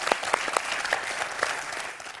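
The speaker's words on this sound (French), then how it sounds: "je vous applaudis Estelle" Studio audience of a French quiz show applauding a contestant, a short burst of clapping with a few sharper individual claps standing out, moderately loud.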